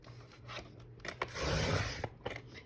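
Scissors or a trimmer slice through a paper card panel with a brief rasping cut, close and quiet over a faint steady hum.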